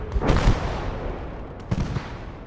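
Grenade blasts and Panzerfaust fire in the World War II game Gates of Hell Ostfront, two heavy booming explosions with rumbling decay, the second fainter and followed by a smaller crack.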